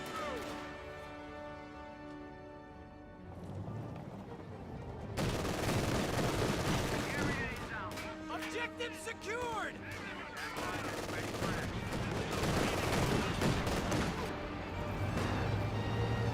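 Rapid gunfire and machine-gun bursts ring out in a Company of Heroes 2 battle against a Grenadier squad, repeated volleys dense and loud over a background music bed, with a voice talking intermittently underneath.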